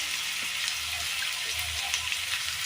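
Oil is poured into a hot pan during the cooking of mezhukkupuratti, a Kerala stir-fried vegetable dish, and a steady, close, even sizzle fills the pan with soft crackles and no talking.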